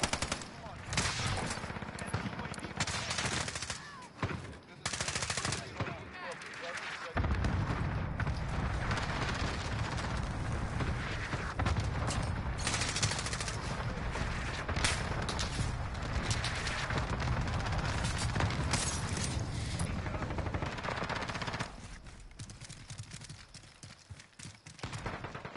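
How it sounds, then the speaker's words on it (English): Rapid bursts of FiNN gunfire in a video game, loud and dense, continuing for long stretches with brief gaps and a pause near the end, with some speech mixed in. "I really thought those last shots there with the FiNN would have actually been long shots"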